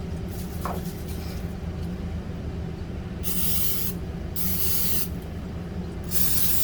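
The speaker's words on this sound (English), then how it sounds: "I am using non-stick olive oil cooking spray." Three short hissing bursts from a non-stick olive oil cooking spray onto a waffle iron inside a camper, close by, each lasting under a second, over a steady low background hum.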